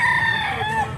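A bullstag gamecock crowing close by, one loud, drawn-out crow filling the short moment.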